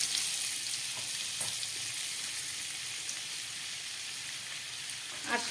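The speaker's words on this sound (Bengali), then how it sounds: "এই সবজিগুলো ভাজার পরে আমি একটু বাটার দিয়ে দিচ্ছি" Vegetables frying in a pan with butter for a healthy winter soup, giving a steady close sizzle throughout with a few faint stirring knocks and no speech.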